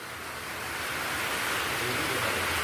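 Rain starting to fall makes a broad, rising hiss that grows steadily louder over a few seconds, with no talk over it.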